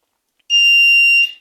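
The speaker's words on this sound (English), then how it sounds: "So the buzzer right here and its potentiometer, if I can just tune it" A single sharp electronic buzzer tone from a digital clock circuit sounds loud and close, holding steady for under a second before cutting off.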